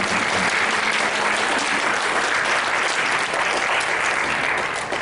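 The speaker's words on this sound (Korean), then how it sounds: "우리 하나님께 영광의 박수로 불러주시기" A church congregation at a year-end Sunday service gives a sustained round of loud applause, thick continuous clapping from many hands with no break.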